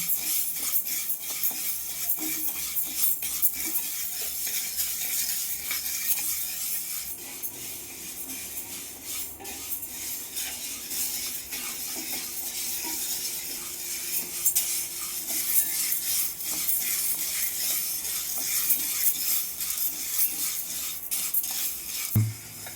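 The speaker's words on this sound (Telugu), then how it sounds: "కడాయిలో పెసలు పప్పు వేసుకొని ద్వారగా వేయించుకోవాలి" Moong dal dry-roasting in a kadai on a gas stove, with a steady, low scraping and stirring rustle of lentils against the pan that runs unbroken and fairly quiet, with no voices.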